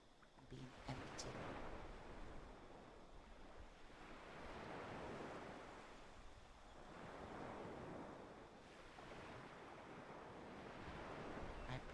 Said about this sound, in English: I pray that you can allow the sounds of the waves coming from the sanctuary today to soothe you.